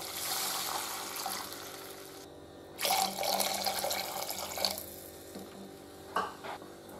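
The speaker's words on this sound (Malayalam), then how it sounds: "2 കപ്പ് റവയ്ക്ക് 2 കപ്പ് വെള്ളം." Water is poured into a pot for semolina chicken biryani, a fairly quiet splashing stream in a couple of bursts with brief pauses between, close by in a kitchen.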